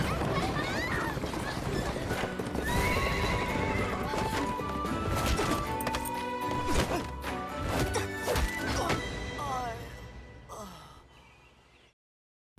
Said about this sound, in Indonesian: Xing Er membuat kuda mereka berlari ketakutan.